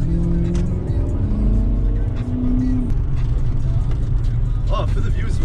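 Loud car engine with a loud exhaust drones steadily up close, with a revving, passing quality throughout, while people talk over it.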